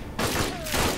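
A short, dense burst of gunfire from Aliens: Dark Descent, rapid shots crackling loud and close over a wash of combat noise.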